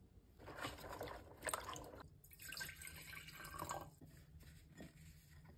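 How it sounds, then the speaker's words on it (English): Water splashing and trickling over orchid roots during a rinse, a faint, close, uneven wet spatter with drips, no talk. "Give it a rinse."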